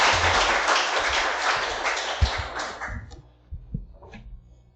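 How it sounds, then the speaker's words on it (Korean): Warm applause at a church worship service marking a leadership handover fades out after about three seconds, leaving scattered thumps and light room sounds. "뜨거운 박수로 환영해 주시면 감사하겠습니다."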